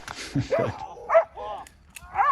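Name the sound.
police dog barking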